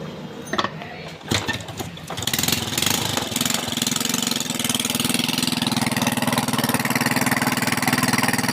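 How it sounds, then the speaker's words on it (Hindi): Yamaha four-stroke motorcycle engine is kicked a few times, catches and settles into a loud, steady close-up idle, with voices speaking during the starting attempts. "चलो भाई आप किक मारो भाई"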